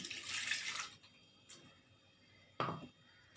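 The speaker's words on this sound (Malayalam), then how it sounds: "ജാറ് കഴുകിയ വെള്ളം." Rinse water from a grinder jar, used to wash out ground cumin, fenugreek and coconut for a herbal porridge, pours in a splashing stream for about a second, followed by a couple of short, nearby splashes and trickles.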